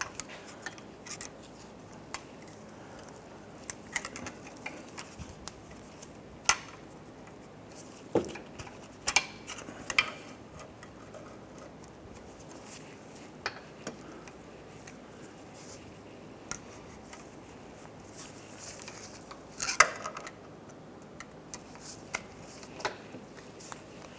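Pliers work a cotter pin out of the front lower ball joint on a 2006-2013 Chevrolet Impala, giving faint, scattered metallic clicks and ticks against a quiet garage background.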